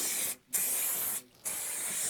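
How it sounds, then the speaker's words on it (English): Silicone spray hissing from an aerosol can onto a moulded plastic boat seat before fitting a vinyl cover, in three close, loud bursts separated by two short pauses. "I'm going to first spray it with silicone spray."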